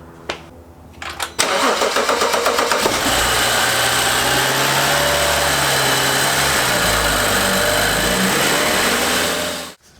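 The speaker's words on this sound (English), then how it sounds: "I will try to start my vehicle and see if it's gonna work with a repaired engine model." A vehicle with a repaired engine cranks in a short burst of clicks, catches, and settles into a loud, steady running drone that holds for several seconds before cutting off abruptly.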